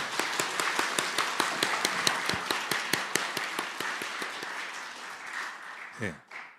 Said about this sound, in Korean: 박수를 치되 한참 한 5초 이상 박수를 치는 걸로